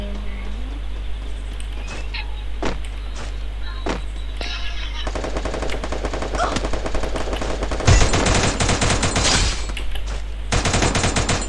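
Rapid automatic gunfire from the battle-royale video game Free Fire, loud bursts of machine-gun fire with a few isolated shots before, with faint talk underneath.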